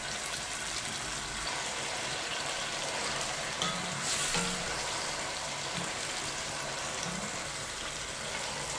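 Chicken sizzles steadily in a frying pan, a constant broadband hiss of hot oil with a few faint clinks as pieces are turned.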